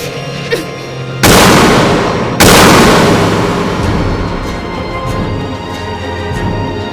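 Gunshots in an anime scene: two loud, sharp blasts about a second apart, each leaving a long ringing, fading tail over quiet background.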